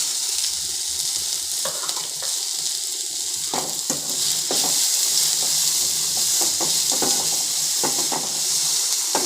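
Onion and capsicum fry in a pan of hot oil that already holds crackled cumin seeds, giving a steady close sizzle with scattered stirring scrapes and pops for about nine seconds.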